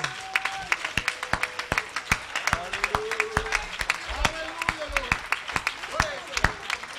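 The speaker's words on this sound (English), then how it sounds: "Let's give one more hand clap of praise." A church congregation claps hands in praise, sharp rhythmic claps under a preacher's voice and faint musical tones.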